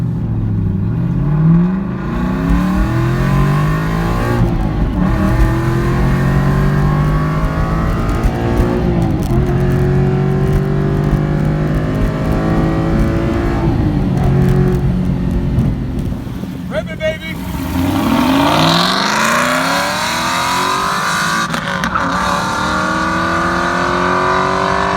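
A cheap Aston Martin V8 Vantage runs flat out on an airstrip, its engine revving up through repeated gear changes in loud, sweeping rises, with wind roar building at speed and a voice speaking intermittently.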